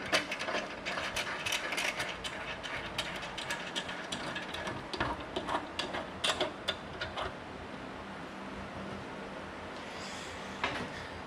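A ratcheting torque wrench tightens bolts on a V2 Leather Pro install, giving fast, even mechanical clicks in close, continuous bursts with short pauses, and no talking.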